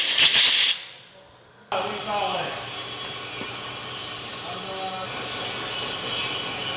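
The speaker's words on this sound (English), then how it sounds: "I'll get some air and blow that out" Compressed air blasts from a nozzle to clear out an engine part during piston reassembly, a loud broadband hiss for the first second that cuts off, then resumes as a steady, sustained hiss to the end.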